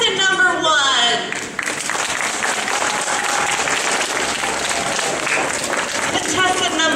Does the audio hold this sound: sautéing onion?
no